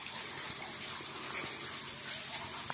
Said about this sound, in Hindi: और देख सकते हो रंगलाल अभी खेत में पानी फेर रहा है।